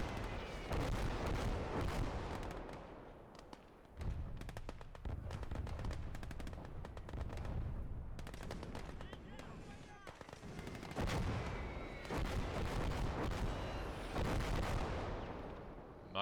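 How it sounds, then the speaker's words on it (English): Dense, continuous battle noise from the Gates of Hell video game: booming artillery fire mixed with rapid gunfire and sniper shots, loud and sustained throughout with brief lulls. "Artillery's pumping away, sniper's plugging away as well."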